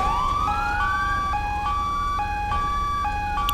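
An ambulance siren in the LSPDFR video game wails in a steady alternating two-tone pattern, fairly close and clear, repeating every half second or so without any speech over it.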